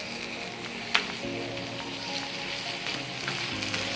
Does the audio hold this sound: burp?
no